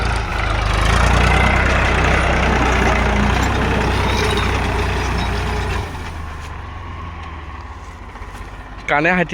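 A 16-year-old Powertrac 439 tractor engine runs while working through mud, a loud, close, heavy diesel rumble that holds steady before easing back to a lower level partway through.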